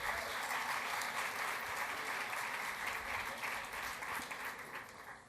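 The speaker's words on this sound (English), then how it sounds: "Let's please give them a round of applause as well." An awards-ceremony crowd at the Writers Guild Awards applauds the awards committee, a full, even roar of clapping that holds strong for several seconds before beginning to taper off at the end.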